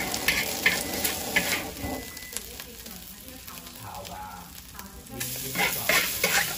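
Fish intestines frying with egg in a pan, a loud bubbling sizzle with stirring and clatter, and voices chatting over the cooking.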